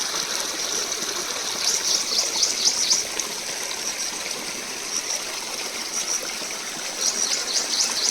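Water streams across a village road in Himachal, a steady rushing flow with light trickling and splashing on top, continuous and fairly loud with no voices.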